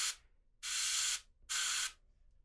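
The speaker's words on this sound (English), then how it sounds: "I kind of pull it back, some air from the airbrush to dry that." An airbrush releasing air to dry freshly sprayed bright paint: one brief hiss cut off at the start, then two longer sharp bursts, close and clean with silence between.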